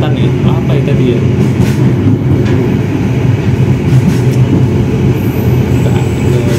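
The Senja Utama passenger train from Jakarta to Yogyakarta rolls along the rails with a heavy, continuous low rumble and rattle heard from inside the carriage, loud and steady, with faint squeals and clicks.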